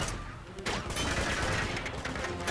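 Dense gunfire bursts from the video game Uncharted 2: Among Thieves, loud and continuous for most of the stretch after a quieter opening moment, with overlapping shots and no clear talking.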